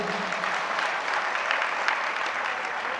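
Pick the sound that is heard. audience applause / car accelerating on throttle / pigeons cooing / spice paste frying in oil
audience applause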